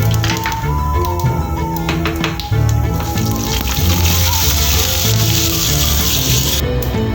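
Mustard seeds spluttering in hot oil while preparing masala vada and thayir vada, a dense continuous crackle and sizzle with sharp popping bursts, loud and close, no one talking.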